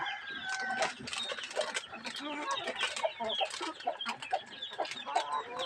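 Pet chickens cluck and squawk busily while being fed, many birds calling close by in quick overlapping bursts over a steady background.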